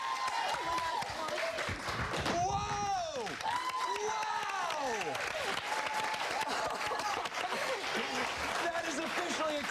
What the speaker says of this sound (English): Guys, give her a big round of applause